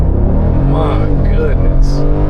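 Truck at a dealer auction, low on fuel, launching at full throttle, a loud steady engine roar with rising revving tones close by, while a voice talks over it.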